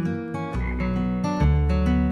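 Frog croaks in a pretend, storybook setting, a run of low, throaty, resonant croaks repeating in short pulses with a tonal, almost musical quality, loud and close with no talking.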